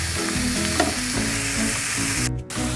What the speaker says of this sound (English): We are going to saute the mushrooms till they become slightly soft.